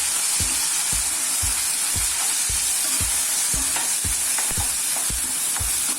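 Tomatoes sautéing in a pan for Tamil vatha kuzhambu, a constant loud sizzle with a regular thudding beat of a spoon stirring roughly twice a second, close up and without voices.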